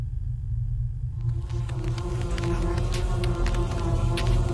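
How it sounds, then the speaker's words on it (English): Mistuned radio in a Chinese folklore horror video game: a continuous low rumbling static hum with warbling tones and crackly bursts layered above, steady and fairly loud throughout, without speech. "If you tune a radio and it starts making sounds like this, you did not tune it right."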